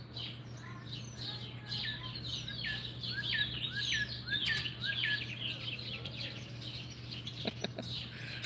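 Birds chirp outside in a busy chorus of repeated short tweets at moderate distance, over a steady low hum.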